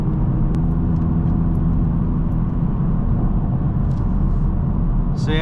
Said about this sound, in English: Coming off the line though, full throttle, because it is a front wheel drive car, you do get a lot of wheel spin.